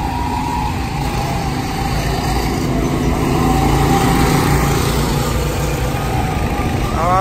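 Racing car engines at a motor racing venue near Santa Maria drone steadily and loudly, with a constant mechanical roar and a brief rising whine near the end.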